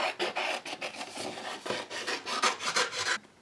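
Scissors snipping around a paper craft piece for a flipbook, fussy cut with a thin black border left on; a steady run of close, crisp rasping cuts in quick rhythm, with no talk.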